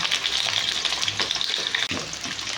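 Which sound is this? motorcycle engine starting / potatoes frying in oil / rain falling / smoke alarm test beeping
potatoes frying in oil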